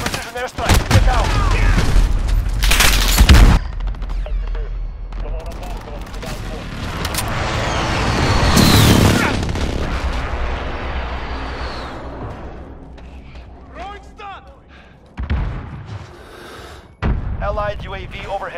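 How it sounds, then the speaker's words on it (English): Explosions from a precision airstrike in the video game Call of Duty: Modern Warfare: several heavy booming blasts with rumbling debris, one huge blast near the middle, then sharp bursts later, mixed with gunfire and voices. "Precision airstrike."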